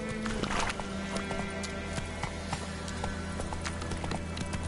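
Roach, a horse in The Witcher 3, gallops with steady clip-clop hoofbeats over continuous game ambience, and a brief whinny rises near the start.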